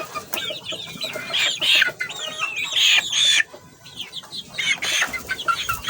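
Chickens and chicks cluck and peep at close range, a busy mix of short high calls and throaty clucks in uneven bursts with brief pauses, no talk over them.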